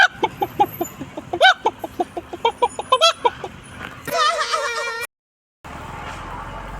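A human voice mimics a rooster, opening with a rapid series of short clucking notes and finishing in one louder drawn-out crow, followed by a brief silence and faint background hiss.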